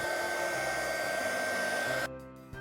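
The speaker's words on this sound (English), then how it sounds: "To speed up the process, you can use a hair dryer or a heat gun too." A hair dryer blows with a steady whirring hiss, close and loud, then cuts to a lower setting near the end.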